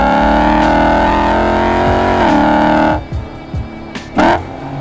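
A car engine and exhaust drone loudly and steadily while driving, then the revs suddenly drop away, leaving a quieter idle broken by a few short bursts.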